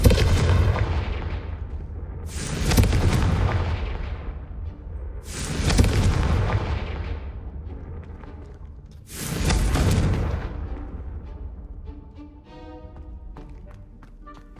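Four booming Confringo blasting-spell explosions in Hogwarts Legacy, each a loud low thud with a decaying rumble, spaced a few seconds apart, followed by fainter magical chimes and ticks.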